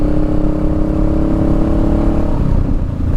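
A motorcycle pulls through third gear with a loud, steady engine drone and a rising tonal whine, close and continuous, easing slightly near the end, with no speech.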